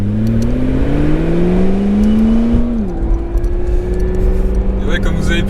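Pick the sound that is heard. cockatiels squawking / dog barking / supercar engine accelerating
supercar engine accelerating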